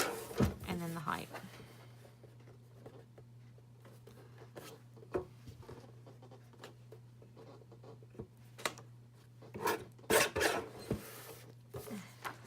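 Paper planner inserts are trimmed down to A6 size with soft scraping strokes and scattered quiet clicks of the cutter, fairly faint, with a low voice murmuring in the background.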